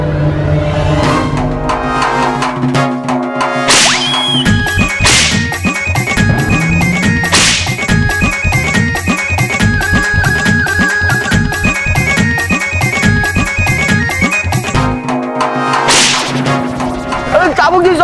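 A whip cracks sharply several times, with loud, close snaps spread across a continuous musical soundtrack in a fantasy television drama scene.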